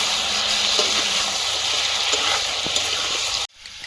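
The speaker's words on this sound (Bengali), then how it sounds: "এবার মশলার সঙ্গে মাংস মিশিয়ে নেব" Meat sizzles and fries with spices in a pan, a steady, close crackling hiss with faint stirring clicks, cutting off abruptly near the end.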